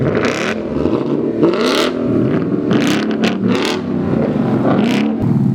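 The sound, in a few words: Ford Mustang engine revving with Corsa exhaust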